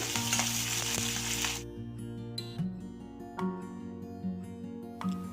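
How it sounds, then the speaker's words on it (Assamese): Onions sizzle in hot oil in a pan for an Assamese-style pork curry. A loud fry at the start drops to a quieter crackle, broken by several sharp stirring scrapes against the pan. "এতিয়া পিঁয়াজখিনি ভালদৰে লৰাই দিছোঁ"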